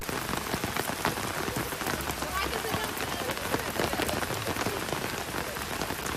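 A heavy rain downpour pelts the ground in a loud, dense, continuous patter with splashy droplet impacts, steady throughout and close by.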